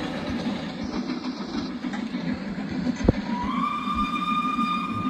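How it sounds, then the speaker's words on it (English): The whistle of an LMS Duchess class 4-6-2 steam locomotive in a train video game sounds as a sustained, clear tone starting midway, rising over steady engine rumble and chuffing. "That whistle is just brilliant."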